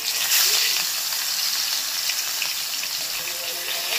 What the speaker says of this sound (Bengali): এবার এক এক করে মাছগুলোকে কড়া করে ভেজে নেব।